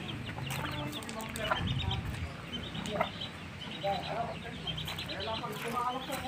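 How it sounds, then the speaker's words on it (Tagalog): Pet chickens cluck and chatter at a pigeon fancier's loft, with repeated close clucks and squawks over a busy background of birds and a murmur of voices. "meron din po mga alagang manok"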